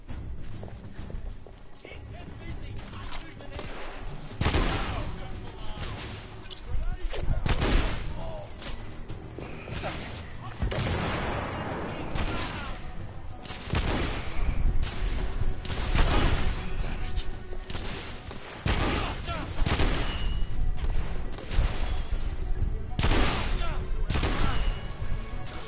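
Heavy shotgun blasts and other gunfire in The Order: 1886, a Victorian-era London action game, booming in repeated loud bursts with crashes and thuds throughout, mixed with game sounds and a voice talking.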